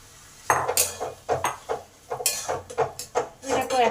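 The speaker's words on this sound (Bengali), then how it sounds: "এটাকে 1 মিনিট কষে নেবো মশলার সঙ্গে" Papaya pieces being stirred with spices in a cooking pan, a spoon scraping and knocking against the metal in a quick series of clattering strokes, close and fairly loud.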